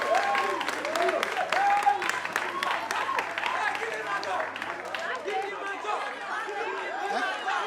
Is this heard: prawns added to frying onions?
no